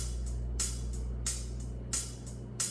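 Logic Pro X hi-hat in a reggae beat, with louder main hits alternating with softer off-beat notes at low velocity, making an even, dynamic ticking pattern over a low hum, with no talking.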